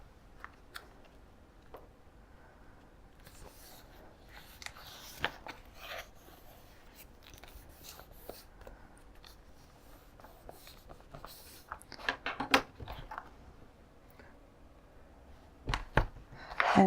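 Scissors trim journal paper in quiet, faint snips and scrapes, with a few sharper cuts near the end and no talking.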